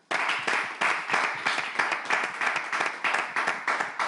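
A studio audience on a French talk show claps in a steady, rhythmic beat of sharp bursts for about four seconds, loud and close with no voices over it.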